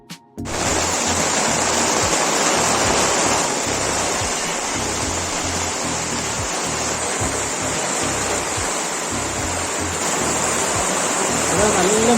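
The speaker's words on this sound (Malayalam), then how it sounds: "മഴയാണ് മഴയത്ത് ഈ പരിപാടി ചെയ്യുമ്പോൾ നല്ല സൗണ്ട് ഉണ്ടാവും വെള്ളത്തിൻ്റെയൊക്കെ" Heavy rain pours steadily and densely throughout, a loud continuous hiss of falling water close by that never lets up.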